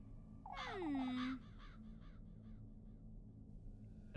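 A single crow caws once in the game Little Goody Two Shoes, a harsh rasping call lasting nearly a second, followed by faint softer calls over a quiet low hum.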